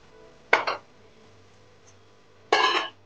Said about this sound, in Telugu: ఇంకా మూత పెట్టేసుకొని